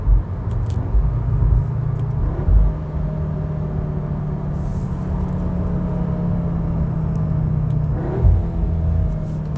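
A 2021 Audi S3 engine drones steadily from inside the cabin as the driver downshifts and accelerates, a low muffled rumble with a couple of brief revving swells, continuous and close with no talk.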